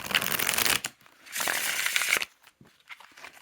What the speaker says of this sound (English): it has just this incredible riffle shuffle. If I can manage to shuffle on camera,